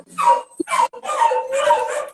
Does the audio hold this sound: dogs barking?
yes